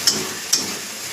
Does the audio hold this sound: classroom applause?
no